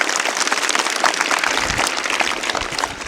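A crowd breaks into strong applause during a Shiv Jayanti quiz event, with loud, dense clapping carrying on steadily throughout.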